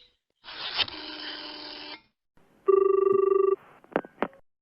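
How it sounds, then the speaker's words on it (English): A telephone rings while a call is put through to a police department: a long buzzing ring, then a steady pulsing ring tone with a clear pitch, followed by two short clicks, loud and close with no talk. "Ringing the police department"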